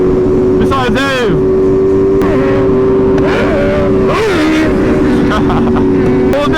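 Motorcycles on a fast group ride rev hard through 200-mile-an-hour power wheelies, engine notes rising and falling in loud overlapping surges with steady drone beneath, while voices talk over the roar.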